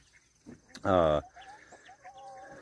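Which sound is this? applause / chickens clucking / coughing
chickens clucking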